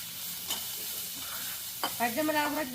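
Onions and green chilies frying in hot oil for cutlets, a close, soft sizzle with light stirring, then a brief voice near the end.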